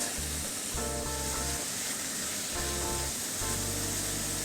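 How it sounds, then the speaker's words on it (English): Pork with salt sizzles and fries in a wok for a jicama stir fry, a loud steady crackle with intermittent stirring and scraping sounds throughout. "next I'm going to add is the pork. Add a little bit of salt."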